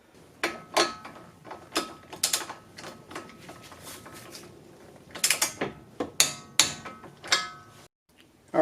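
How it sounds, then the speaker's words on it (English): A ratchet clicks in rapid bursts as a 17 millimeter socket torques the upper control arm nut on a 2004 Infiniti G35X, close and sharp, with a short quiet gap near the end. "What we're going to do now is torque everything down."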